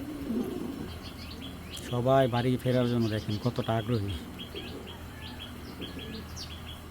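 Racer pigeons cooing in a loud, close rolling burst that rises and pulses for about two seconds, with faint chirps and someone talking over the birds.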